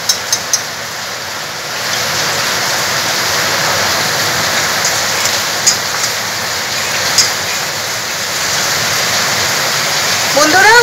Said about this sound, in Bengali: বন্ধুরা, খুব জোর বৃষ্টি পড়ছে, বৃষ্টির আওয়াজটা হয়তো আপনারা শুনতে পাবেন।